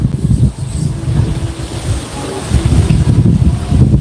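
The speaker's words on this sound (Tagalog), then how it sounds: "ang lakas ng hangin ah" Strong wind buffets the microphone outdoors, a loud low rumbling roar that surges and drops in uneven gusts throughout, with no talk over it.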